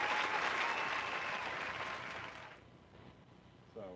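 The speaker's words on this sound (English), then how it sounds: "Everybody's applauding." An audience at a live comedy roast breaks into loud, dense applause that holds steady, then thins out and fades toward the end, leaving a brief faint sound at the close.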